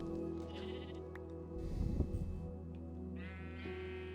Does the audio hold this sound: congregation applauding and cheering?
no